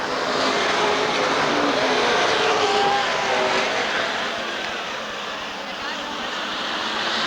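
Stock cars racing at Rockford Speedway just after the green flag, a dense, loud roar of many engines sustained throughout, swelling slightly and then easing as the pack moves on.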